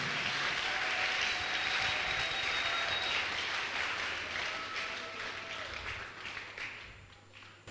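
A church congregation applauds in acclaim of the Lord, sustained dense clapping that holds loud for several seconds, then gradually thins and fades toward the end.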